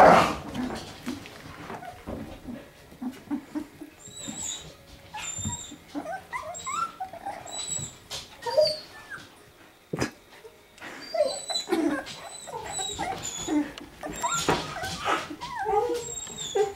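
Several small puppies, nearly three weeks old, whimper and yip in scattered high-pitched squeaks and whines in a whelping box, close and fairly soft, with faint voices now and then.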